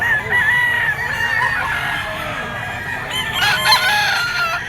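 Yellow-legged gamefowl stag rooster crowing close by, one drawn-out cock-a-doodle-doo followed by clucking and other fowl noises.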